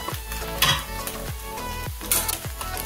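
Tripe (matumbo) sizzles in cooking oil in a pan for a wet fry, with a steady frying hiss and a spoon scraping through about every half second, close and moderately loud, with no talking.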